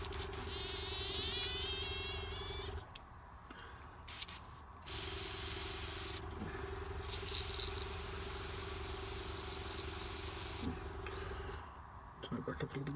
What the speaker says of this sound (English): So I'm going to turn the pressure on the airbrush right down.